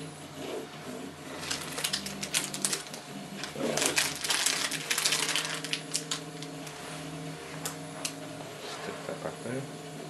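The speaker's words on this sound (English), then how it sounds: "it doesn't make the printer any quieter" An Up! Mini 3D printer runs nearby with busy mechanical clicking, rattling and whirring from its moving parts, plus steady tonal motor hum, continuous and fairly loud throughout.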